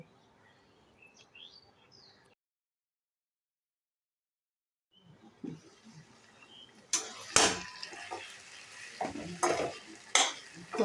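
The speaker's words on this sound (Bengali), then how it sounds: "এগুলো একটু চাপা দিয়ে সতে করে নেব, হালকা করে ভেজে নেব।" Vegetables being lightly fried and stirred in a pan for a paneer dish, with soft sizzling, then louder scraping and stirring strokes with sharp clatters, close by, after a brief silent gap.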